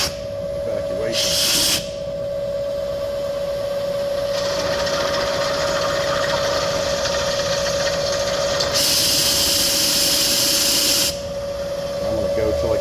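A drill bores out an M12x1.5 bolt seized in an aluminum wheel. A steady, close, high whine runs throughout, with louder hissing bursts of cutting swelling in and out.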